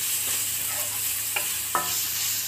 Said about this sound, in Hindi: डालेंगे गाजर, शिमला मिर्च, सभी सब्जियों को बस एक मिनट बस भूनेंगे।